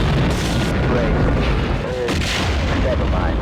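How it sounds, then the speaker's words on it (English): A missile blast close by in the space combat game Wing Commander: Standoff, a loud, dense booming roar that fills the whole stretch with rumbling bursts and crackle, with a voice talking faintly underneath. "that missile got way too close"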